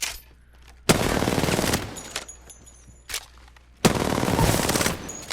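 Gunfire in the video game Apex Legends erupts in two loud sustained bursts of rapid automatic shots, separated by a pause with a couple of single cracks.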